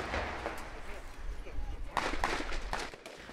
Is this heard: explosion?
yes